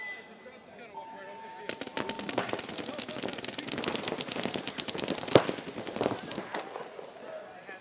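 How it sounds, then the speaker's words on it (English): A paintball gun fires in a rapid burst of dense, sharp, evenly spaced pops lasting several seconds at close range, with a voice talking before and between the shots. "So this is how you're supposed to hold a gun and you shoot. Let it rip."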